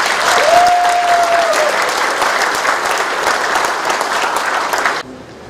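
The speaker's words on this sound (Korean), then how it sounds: "격려의 박수를 보내주시기 바랍니다." Supporters at a county candidate's campaign office opening in Yangpyeong give loud, sustained applause, a dense roar of clapping that holds for about five seconds and then cuts off abruptly. A brief whistle-like tone rises over it near the start.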